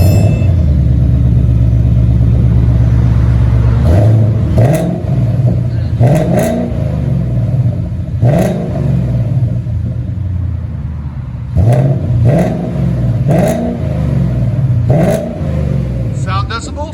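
A 2020 Ford Mustang GT 5.0 with a CORSA Extreme exhaust and high-flow catalytic converters idles with a deep rumble, then is revved in a series of sharp blips. People talk faintly in the background.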